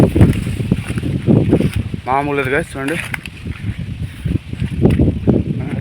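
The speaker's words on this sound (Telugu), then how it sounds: "గాలి అయితే బీభత్సం వేస్తుంది" Strong wind on an open hill roars and buffets the microphone in a steady rumble beneath someone talking throughout, with a brief tonal sound in the middle.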